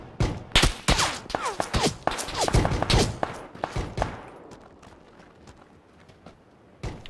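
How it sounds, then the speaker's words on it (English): Video game gunfire crackling in rapid bursts, a fusillade of sharp shots close and loud through the first half, thinning to scattered distant pops before one last loud burst at the end. "Shot from somewhere."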